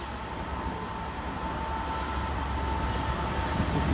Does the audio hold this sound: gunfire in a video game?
no